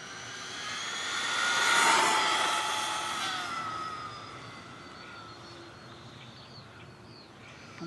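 A Castle Creations Mamba Micro X ESC and 0808 motor on a 1:18 scale RC car whines high and thin as the throttle rises. It swells to a peak after about two seconds, then fades slowly as the car pulls away, with no talk.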